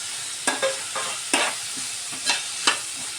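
Tomatoes are tipped into onions frying in a pan. A soft background sizzle is broken by several sharp bursts of hissing and stirring scrapes, irregularly spaced and close by. No talking is heard.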